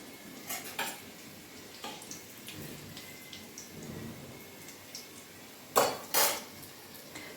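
Chopped garlic and capsicum cooking in a pan, with a soft frying hiss under scattered metallic clinks and scrapes of a utensil against the pan, ending in two louder clanks near the close.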